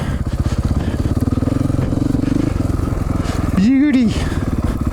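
A motorcycle rides on snow while attempting a nose wheelie, its engine chugging in a fast, close, steady pulse, then revving sharply near the end, with a voice speaking over it.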